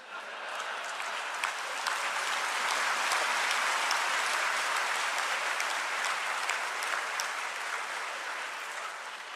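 Audience clapping fills a hall in a steady, even roar of many hands, with individual sharp claps poking out now and then; the sound stays consistent and a little distant, without any speech.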